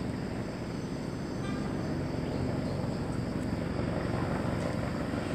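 Helicopters fighting a wildfire over Positano give off a loud, constant rotor thrum and engine roar, sustained and fairly close, with a faint voice briefly under it.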